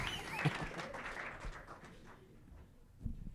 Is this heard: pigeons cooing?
no